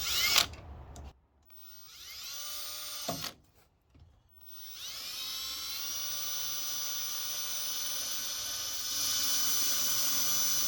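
A power drill bores a hole into the exhaust of a 1964 Suburban to fit a rivet, a high whining spin that starts and stops in short bursts, then runs steadily and close for several seconds.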